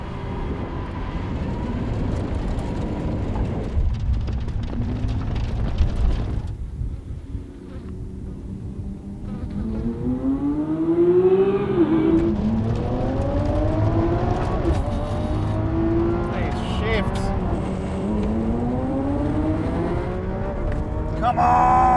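A V12 Lamborghini Countach and a Lamborghini Sian accelerating side by side in a drag race, with loud engine roars rising in pitch through several gear changes and people talking over the noise.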